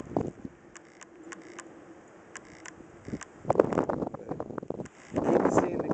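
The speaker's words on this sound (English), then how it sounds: "we got pretty much about a steady 15-20 mile an hour wind" Gusty wind from a snow blizzard over an open field buffets the microphone in rough surges, quieter at first, then swelling into loud rushing blasts near the end.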